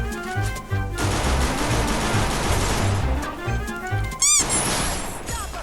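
Gunfire in a first-person shooter, with rapid bursts of automatic fire that are loud and close and continue almost without a break, plus a short electronic chirp near the end.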